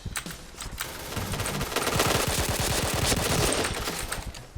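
K2C EBR rifle fired in a Point Blank shooting game, a sustained rapid automatic burst of crisp shots at a fast even rhythm, loud and close, with no talk over it.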